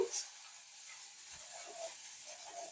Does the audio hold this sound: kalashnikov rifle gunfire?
no